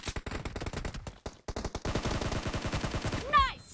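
Rapid bursts of automatic gunfire in the PUBG Mobile battle royale game, dense crackling volleys fired in quick succession with short pauses, ending in a sharper whistling or ricochet-like effect.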